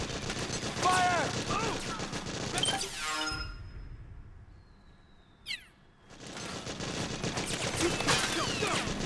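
Bursts of rapid gunfire in the Metal Gear Solid 4 video game, dense and loud with shouted voices over it, dropping out briefly midway before the shooting and voices resume.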